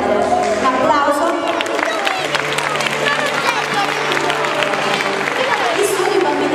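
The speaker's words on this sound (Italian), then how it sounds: "Un applauso." An audience at a children's poetry competition bursts into sustained applause, dense clapping with some cheering and chatter mixed in, loud and close throughout.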